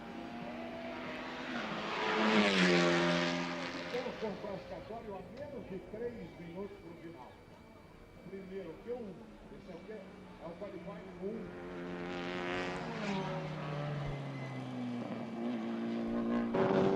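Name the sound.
TCR touring race car driving a lap on track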